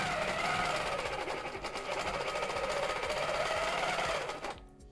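A longarm quilting machine fitted with a ruler foot stitches in a fast, continuous mechanical hum with rapid needle ticking, close and steady, then winds down and stops at the end.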